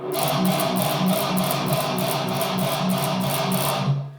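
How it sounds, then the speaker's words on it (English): A distorted electric guitar riff of tight chugs palm-muted at the bridge in a steady repeating rhythm, with a ringing note at the end; no voices. "as opposed to muting at the bridge"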